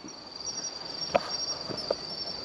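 Bell crickets (suzumushi) by a roadside give a continuous high, thin trill with a few brighter chirps, faint and close, with no voices.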